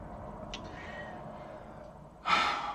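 A pet cat named Watson lets out a short, close meow toward the end after a quiet stretch of faint room noise, with a small chirp earlier.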